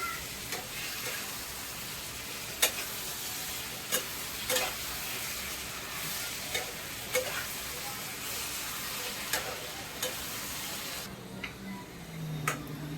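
Mutton stir-fried in a pan for kosha, with a steady broadband sizzle and periodic scraping clicks of a spatula stirring the meat, sustained throughout before quieting near the end.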